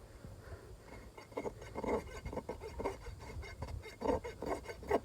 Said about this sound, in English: I'm gonna break in the new rasp here